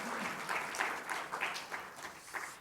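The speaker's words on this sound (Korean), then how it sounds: "박수로 환영합니다" A church congregation claps in welcome during a Sunday service, with brisk, slightly rhythmic bursts of applause close by that rise and dip across the short moment.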